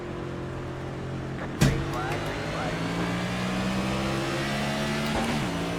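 Race cars in the iRacing simulator accelerate off the green flag start, engines droning with steady rising tones and a sharp transient near the start of the surge.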